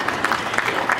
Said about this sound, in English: I think we deserve a clap,